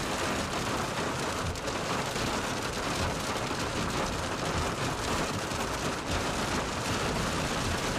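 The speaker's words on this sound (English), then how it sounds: "So far, just some really strong winds, some very heavy rain." Very heavy rain driven by strong storm winds in the Texas Panhandle, a dense, steady roar of pouring water and gusts filling the whole stretch without pause, loud and close.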